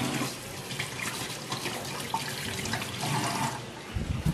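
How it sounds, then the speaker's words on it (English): A kitchen tap runs while hands are washed under it, a steady, close hiss and splash of water that continues throughout with slight splattering changes, no speech. "Wait, I have to wash my hands."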